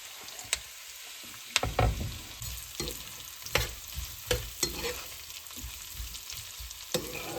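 Onions frying in a pan for Hyderabad-style chicken dum biryani, a soft steady sizzle broken by sharp scraping strokes of a spoon stirring them, irregular and close by with no talking.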